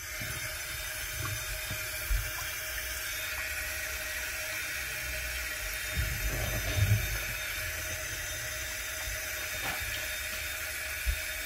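A kitchen tap runs steadily to fill a glass with water, giving a continuous soft hiss and rush throughout, with a few faint low bumps partway through.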